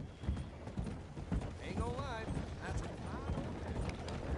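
Horse hooves clip-clop on a city street in Saint Denis in Red Dead Redemption II, a steady trotting rhythm under game ambience, with someone talking over it and a brief horse snort.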